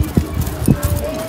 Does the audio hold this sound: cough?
no